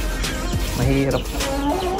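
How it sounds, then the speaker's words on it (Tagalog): A native chicken clucks and squawks a few times close by, brief bursts over a noisy background. "Napasukan tayo ng mga manok dito,"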